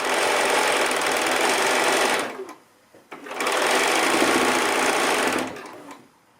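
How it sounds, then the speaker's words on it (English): A sewing machine stitches along the top edge of a quilt strip in two long steady runs of rapid mechanical whirring, separated by a brief pause, close and loud with no talking. "just stitch that all the way along the top edge of that strip"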